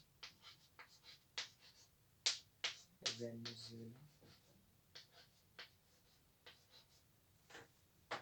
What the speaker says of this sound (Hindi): ये मैं आपको लिख के बता देता हूँ